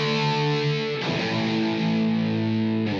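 An electric guitar plays a power chord through an effects pedal, sounding loud and distorted with rich sustained harmonics. The chord is restruck about a second in and rings on alone.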